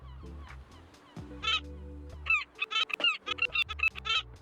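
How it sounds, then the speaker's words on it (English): Seagulls in the cozy video game Tiny Bookshop give a run of repeated squawking calls over a soft background music bed, clear and fairly close, with no speech. "I'm not a fan of seagulls."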